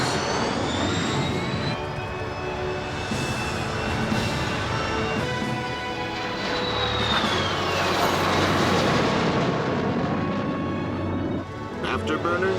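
A loud, continuous jet roar from an Avro Arrow aircraft engine running with afterburner fills the whole stretch with steady power, while voices speak over it.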